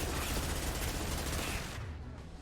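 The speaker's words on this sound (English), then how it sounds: "Let's switch to the SMG since the room is small enough." Rapid SMG fire in a video game firefight, a dense continuous burst of automatic shots filling the clip without pause and easing slightly toward the end.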